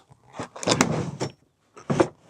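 A drawer under the dinette of a Lance 1181 truck camper slides out with scraping, rumbling runs and clunks, then gives a second shorter slide after a pause, close and fairly quiet, with no talking.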